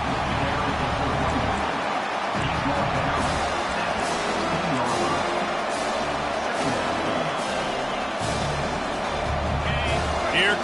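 A packed Ole Miss football stadium crowd roars steadily and loudly through a big down, a continuous dense wall of cheering beneath a commentator's play-by-play.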